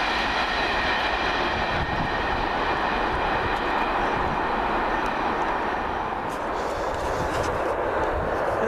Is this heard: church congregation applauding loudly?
no